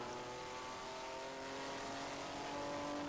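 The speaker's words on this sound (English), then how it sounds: "another crisp, well-rev match downshift" A race car in the ChampCar endurance series at VIR's south course downshifts with rev-matching, its engine tone stepping and droning faintly beneath wind noise, with no talk.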